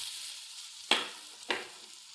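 Ripe banana pieces fry in ghee with a steady high sizzle, broken by two sharp scrapes of a spoon stirring the pan, close and fairly quiet with no voices.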